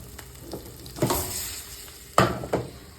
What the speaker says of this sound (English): in a nice hot pan with oil, you want to add in your onions and your peppers